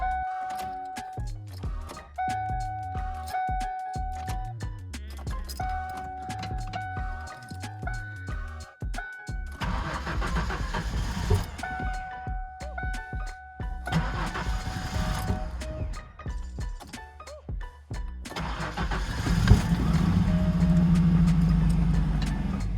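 A 1995 Mustang with a manual gearbox and a history of hard starting cranks in rhythmic bursts with short pauses, then catches and runs roughly. The engine revs up louder near the end.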